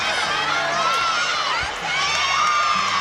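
Loud arena crowd cheering and shouting at a Florida college gymnastics meet, a steady roar of voices and whoops with brief swells, lasting throughout.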